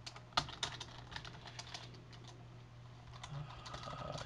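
Quiet clicks of a computer keyboard as someone types, a few sparse keystrokes over a low steady hum.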